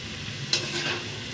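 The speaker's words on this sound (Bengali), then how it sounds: "ছতু আর পেঁয়াজ আমি ভালোভাবে মিশাই নেবা।" Mushrooms and onion are stirred together in a frying pan, with a single sharp scrape followed by a soft shuffle over a low sizzle in a short, quiet moment.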